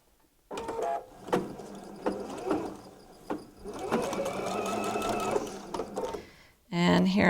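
A sewing machine back stitches across a seam on a sparkly tote bag, running in several short bursts with pauses, then a longer steady stretch and a louder final burst; close and clear, with no talk over it.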